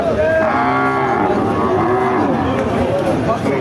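A cow lowing loudly and repeatedly at a Bangladeshi cattle market where dry dairy cows fattened for meat are sold, the long deep moos filling a busy outdoor setting.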